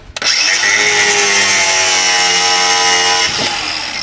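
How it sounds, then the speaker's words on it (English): Angle grinder cutting through a cable on a classic Mini during rear subframe removal: a loud, steady high-pitched whine with harmonic tones, starting abruptly and running about three seconds before spinning down. "just cut the damn cable with a grinder"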